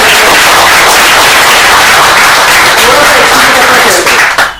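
An audience at a DXN health and success seminar gives a speaker loud, sustained applause, a dense wall of clapping that stays near full volume and then begins to fade at the end.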